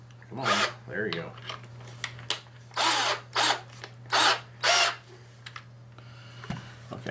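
A step drill bores into the plastic housing of a cheap Chinese handheld-radio speaker mic in several short, close grinding bursts separated by brief pauses, over a steady background hum.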